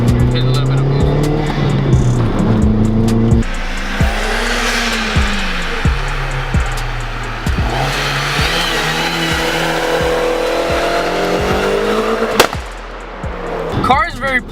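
A Volkswagen Golf GTI 20th Anniversary Edition on ST coilovers accelerates under turbo boost on a wet road. Engine revs climb and drop through gear changes, tires hiss on the wet surface, and someone talks over the engine.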